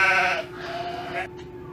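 A single sheep bleats close and loud, a short, wavering cry that fades into a quieter tail.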